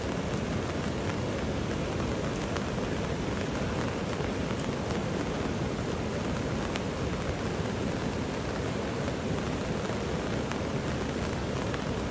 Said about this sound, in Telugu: వర్షం సిచ్యువేషన్ కొంచెం ఎక్కువ ఉంది ఇక్కడ